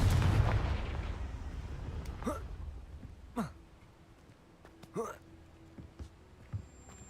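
Blasting spell explosions from a Harry Potter video game, several sharp booming bursts spaced about a second apart after a loud opening rumble, with a voice shouting the spell.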